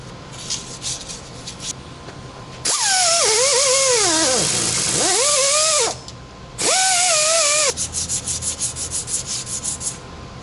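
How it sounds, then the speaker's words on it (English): Sandpaper scrubs the brake hub of a Toyota Camry during a brake replacement, a loud, steady rasping that gives way to shorter rhythmic rubbing strokes near the end. "Same procedure, just use some sandpaper."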